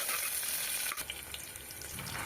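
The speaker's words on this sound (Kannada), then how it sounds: "ಈರುಳ್ಳಿ ಎಲ್ಲ ಹಾಕೊಂಡಾದ್ಮೇಲೆ ಚೆನ್ನಾಗಿ ಫ್ರೈ ಮಾಡ್ಕೊಳ್ಳಿ" Onions fry in oil inside a pressure cooker with a tempering of mustard seeds and curry leaves, a bright steady sizzle that briefly dips and returns, close and alone without speech.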